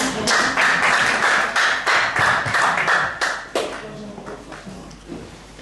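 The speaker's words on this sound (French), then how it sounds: "nous acclamons pour le Seigneur." A church congregation claps loudly and rhythmically in praise, hands striking together in a dense, steady run that thins out and fades toward the end.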